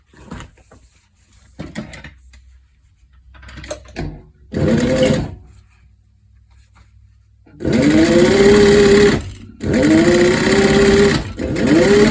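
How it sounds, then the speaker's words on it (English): A sewing machine top stitches a leather corset in several runs: short bursts first, then two long steady whirring stretches near the end with brief pauses between them. "we're gonna top stitch"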